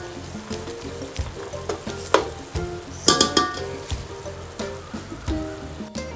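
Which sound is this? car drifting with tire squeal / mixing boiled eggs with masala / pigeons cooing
mixing boiled eggs with masala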